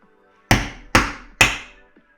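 Three sharp, loud metallic hammer strikes on a punch knock rivets out of a school bus during a skoolie conversion, evenly spaced about a second apart, each ringing briefly in an otherwise quiet space.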